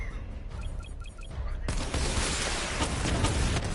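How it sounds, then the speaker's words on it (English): Missile barrage fire in the Batman Arkham Knight video game, a dense rumbling volley of blasts that starts abruptly partway through and keeps going loud and close. "Charge up missile barrage to level 2 and destroy 4 active targets to complete diagnostic test."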